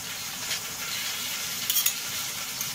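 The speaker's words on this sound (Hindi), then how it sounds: "अब बस हम इसे फुल फ्लेम पे भून लेंगे" Fenugreek greens saag fries in a pan on an induction hob at full power, giving a steady close sizzle and hiss with a few faint stirring scrapes.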